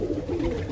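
A pair of pigeons coos in a low, soft, murmuring burst, close by and brief, with no talking.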